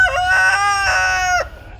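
A farm rooster crows once nearby, loud and drawn out over about a second and a half before cutting off into quiet.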